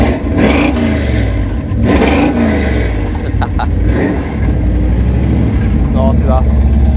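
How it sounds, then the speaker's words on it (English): A car's engine is revved hard at a large car show in the north of England, with a deep, loud roar that surges and rises in repeated throttle blips, while people talk nearby over the rumble. "Tell him to rev it there."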